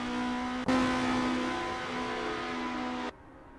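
A Formula race car engine in a sim racing game at Zandvoort, a loud sustained high-pitched drone that drops for a moment, surges back and then cuts off.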